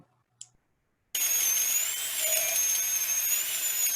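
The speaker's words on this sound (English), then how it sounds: "It's the drill. It's rusty. It's an antique." An old, rusty antique dental drill starts abruptly after a moment of near silence, then holds a loud, steady, piercing whine with slight wavering in pitch, close up and alone.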